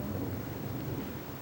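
Thunder from a storm outside rolls as a steady low rumble, heavy and continuous, with a rain-like wash over it and no clear separate claps.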